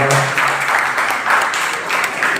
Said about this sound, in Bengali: আমাদের ছোট্ট সোনা বন্ধুর জন্য একটু জোরে হাততালি হোক